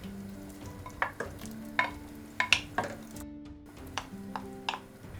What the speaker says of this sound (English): add in the onions and mushrooms